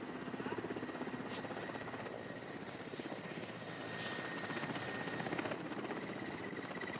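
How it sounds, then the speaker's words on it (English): A helicopter hovers over snowy forest treetops, its rotor throbbing in a rapid, steady beat with an engine whine beneath. The sound stays moderately distant and fairly even, with no talking. "a helicopter hovering in the treetops"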